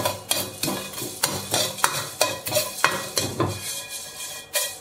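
Sichuan peppercorns and star anise stir-fried in a wok over low heat, a spatula scraping and tossing them in quick rhythmic strokes with soft sizzling between, close and clear.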